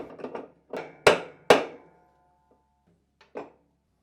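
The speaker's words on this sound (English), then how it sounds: "using a wrench and mallet, tighten the nut" A mallet strikes a wrench to tighten the spanner nut on a washer gearcase, giving several sharp metallic knocks with two loud hits near the middle and a lighter one near the end, close and alone.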